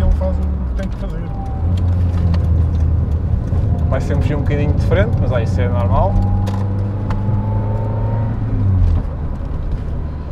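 A Lancia Delta Integrale Evo 2 driving, its engine a steady low drone with shifting tones and road rumble inside the cabin, while people talk throughout over the engine.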